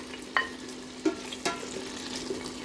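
Potatoes and carrots fry in hot oil with a steady close sizzle, broken by a few light clicks and taps from stirring.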